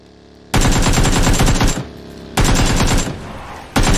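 Loud, close automatic gunfire in the battle royale game PUBG comes in three rapid bursts, each a fast rattling string of shots separated by short pauses.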